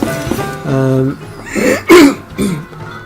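A person with a sore, ulcerated throat coughs and clears their throat in a few short, rough bursts with pauses between them, close to the microphone and loud.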